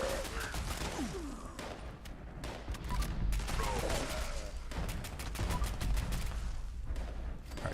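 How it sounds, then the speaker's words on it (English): Gunfire crackles in Fallout 76 in rapid bursts and single shots, loud and close, with faint voices and game sounds mixed underneath. "Stop shooting at me."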